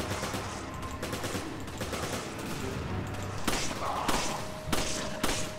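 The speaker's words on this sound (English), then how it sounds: "Hey, machine gun." Machine gun fire in the video game Resident Evil 5 rattles in rapid bursts over a steady, busy combat din, with sharper gunshot volleys growing louder toward the end and no talking.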